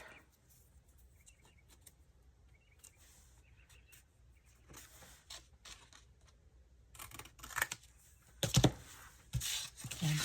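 Scissors trimming the edges of a paper tag in a craft setting, faint snips and rustles at first, then louder, closer crisp cuts and paper handling toward the end.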